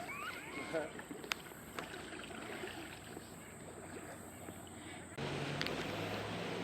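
A kayak glides on calm water with soft paddle strokes and gentle dribbling splashes, faint and close. Quiet voices murmur early on, and the sound shifts to a steadier low wash near the end.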